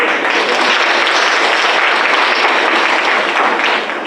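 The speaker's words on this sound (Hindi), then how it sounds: "आइए हम सब जन मिलकर ताली बजाकर" A church congregation claps together to welcome a visitor during a Hindi Sunday morning service, the applause steady and dense throughout, close and loud.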